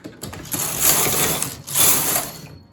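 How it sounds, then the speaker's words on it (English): A knitting machine carriage pushed across the needle bed to knit two rows of a cable pattern: two loud, sustained mechanical whirring passes with a short pause between them, close and alone, ending in quiet. "Show your needles forward and go ahead and knit 2 rows."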